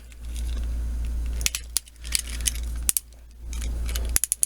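Ratchet joints on a Transformers Combiner Wars Bruticus toy give sharp clicks in a few short bursts over a steady low hum, close and fairly crisp.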